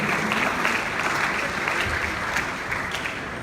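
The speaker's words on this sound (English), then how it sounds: "Come on, a round of applause for him." An audience at a youth empowerment programme gives a session anchor a round of applause, a dense, even roar of many hands clapping close and loud throughout.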